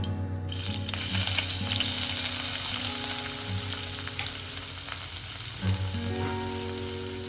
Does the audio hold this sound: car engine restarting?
no